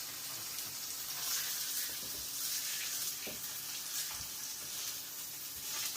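A Kagoshima Wagyu strip loin sears in an unoiled pan, rendering its own fat, with a faint, even hiss that holds steady throughout and carries only a few soft bumps.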